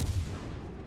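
Incoming shell fire striking a battleship in World of Warships Legends, heard as a brief, deep booming impact with a low rumbling tail, moderately loud and alone.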